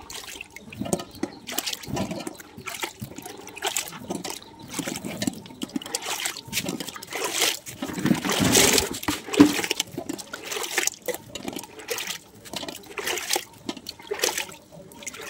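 Water splashing and trickling as fallen lychees are washed by hand, with irregular close sloshes and dribbles throughout, and a louder rushing surge in the middle, with no voices.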